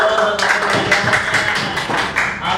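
A group of listeners at an Islamic elementary school session claps together, sharp irregular hand claps blending into a steady patter for a couple of seconds, fairly close and loud with no talk over it.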